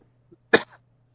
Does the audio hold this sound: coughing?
yes